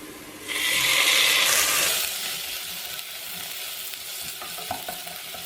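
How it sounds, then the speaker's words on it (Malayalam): Chopped tomatoes hit hot oil in a pan for egg biryani, a loud burst of sizzling that settles into a softer steady frying hiss with a few light stirring clinks. "ഇനി ഇതിലേക്ക് തക്കാളി ഇട്ട് കൊടുക്കാം"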